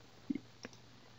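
Faint mouse clicks on a web page's paging link: a quick double click, then a single softer click, close and quiet in an otherwise silent room.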